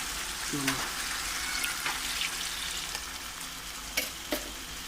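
Seekh kabab masala gravy cooks in a pan after water is added, giving a steady close sizzle and bubbling with a few utensil clinks. A voice is heard briefly.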